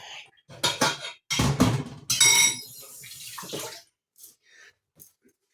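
Tap water gushing and splashing as it runs and overflows in a kitchen sink, loud irregular bursts with clattering, fading to quiet drips near the end.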